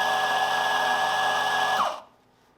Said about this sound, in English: this is my reference grinder, the Gaggia Rev Titan 83 millimeter flat burr